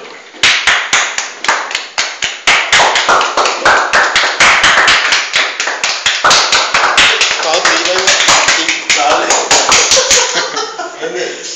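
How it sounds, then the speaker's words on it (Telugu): A group claps hands at a birthday celebration, with brisk, dense applause running steadily for about eleven seconds and voices underneath. "క్లాప్స్ క్లాప్స్ కొట్టు."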